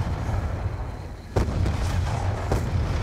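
Missiles explode in Call of Duty Black Ops 2, a loud rumbling battle roar with two sharp blasts cutting through the heavy low-end din.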